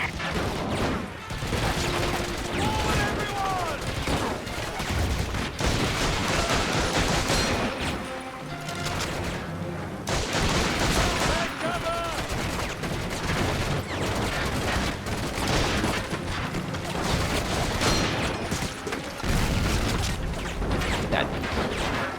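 MG42 machine gun fire in the video game Medal of Honor European Assault, with dense, loud bursts of automatic fire and explosions running almost continuously, broken by brief lulls, and a few faint voices mixed in.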